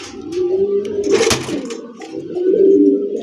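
Pigeons coo in low, rolling murmurs at a pigeon farm, close by with several overlapping calls and a brief rustle or flutter midway.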